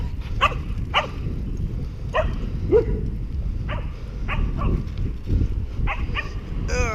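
Dogs bark in short, sharp bursts about once a second around a rider on a bike, over steady low road and wind rumble, fairly close.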